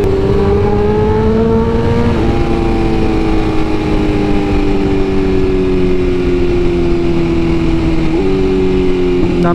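Engine of a 2022 BMW S1000RR sport motorcycle while riding, a loud steady drone with slowly falling pitch and brief shifts, heard close with wind rush and no talk.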